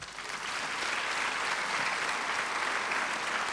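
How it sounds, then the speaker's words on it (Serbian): An audience at a business motivational presentation applauds, a dense and steady wash of clapping that swells in and holds evenly throughout without voices. "Jedan aplauz za vas."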